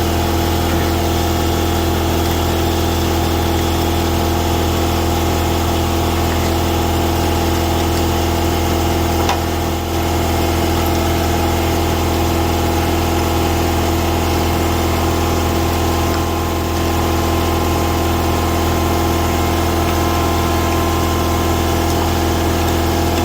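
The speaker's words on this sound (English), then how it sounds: "compressor decided to start running right before I stopped the video." Air compressor running steadily in a garage during front axle seal work on a 2009 Ford Taurus X AWD, a loud, close, continuous motor drone with a constant hum and no pauses.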